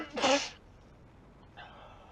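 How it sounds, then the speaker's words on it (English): A single sharp human sneeze bursts out near the mic, followed by a softer breathy exhale a moment later against a quiet background. "You gotta sneeze."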